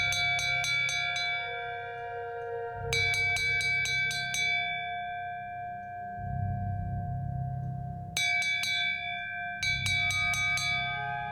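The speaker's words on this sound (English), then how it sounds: "try to follow the sound of this bell and come speak with us" A handbell rung in a former prison warden's house during a paranormal investigation, clear metallic rings in repeated bursts of rapid strokes with lingering tones between them, close and fairly loud.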